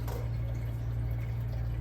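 An OXO 9-cup coffee brewer runs an empty rinse cycle, giving a steady close hum with faint trickling water throughout, no voices.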